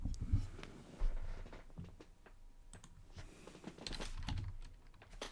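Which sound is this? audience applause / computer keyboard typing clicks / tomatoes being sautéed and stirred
computer keyboard typing clicks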